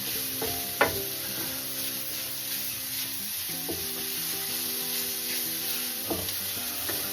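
Sausage meat frying in a pan, a steady close sizzle with occasional stirring scrapes and clinks of a utensil, with no voices.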